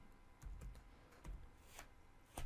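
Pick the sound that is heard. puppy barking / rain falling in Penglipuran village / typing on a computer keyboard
typing on a computer keyboard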